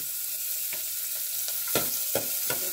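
Onion and ginger sauté in a pan as the base for tinola, a constant close sizzle broken by several sharp scraping stirs near the end.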